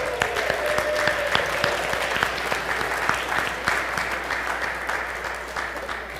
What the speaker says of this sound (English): I applaud the ladies